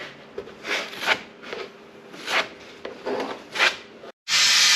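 Filler being scraped and rubbed into holes on a truck cab sun-visor of an ERF lorry, a series of rasping strokes repeating at close range, ending in a sudden louder burst of noise.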